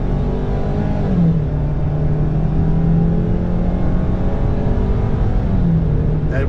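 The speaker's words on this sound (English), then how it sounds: "I'm gonna mash on it here," A Ford Maverick pickup's small turbocharged four-cylinder engine accelerates at full throttle, a steady, loud drone that climbs in pitch, briefly drops as the transmission shifts, then climbs again, heard from inside the cab with road noise underneath.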